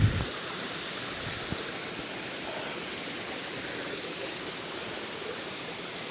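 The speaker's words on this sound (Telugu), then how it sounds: "అక్కడి నుంచి వాటర్ పడుతుంటేనే" Katiki waterfall near Araku and the Borra Caves: water falling in a continuous, dense roar of white-noise-like rushing, steady and unbroken, with no voices heard.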